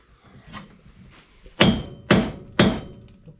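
Three sharp, loud hammer blows strike a car's subframe connectors at an even pace while the vehicle sits lowered on a jack, with faint background rustle between the impacts.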